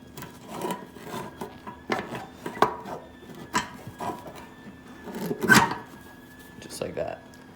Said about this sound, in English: So you're going to want to wiggle the seat, and you're going to try to clear this lump right here.